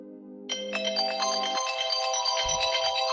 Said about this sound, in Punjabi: ਲੈ ਉਹਨਾਂ ਦਾ ਫੇਰ ਫੋਨ ਆ ਗਿਆ